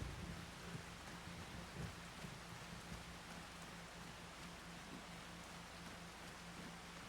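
Steady rain hisses over a farming video game field in a world called Riverbend, a constant dense wash with occasional faint rumbles and no talking.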